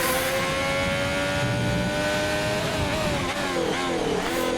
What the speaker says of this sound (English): Should be able to hear the cars